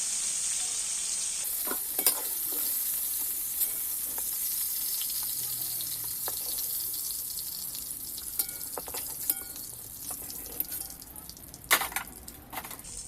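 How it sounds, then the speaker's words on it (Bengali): Potato pieces frying in salted oil after cauliflower was fried, a steady quiet sizzle with scattered sharp ticks and scrapes of a spatula stirring in the pan. "আলুগুলো একটু ভেজে নেবো তেলের মধ্যে"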